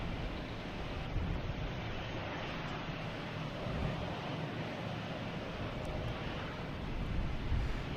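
A United Airlines Airbus A319 arriving from Newark at Boston Logan, heard as a steady, broad, distant roar with no voices.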